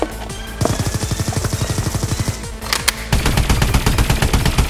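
Rapid automatic gunfire in an army comedy skit: loud, rattling bursts of shots repeating in quick succession, with a short break before another dense volley.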